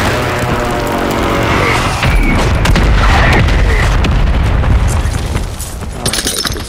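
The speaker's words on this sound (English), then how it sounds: "Watch that airstrike." Airstrike explosions in a video game, loud booming blasts that merge into a continuous roaring rumble, with sharper cracks and crackle scattered across it before it eases near the end.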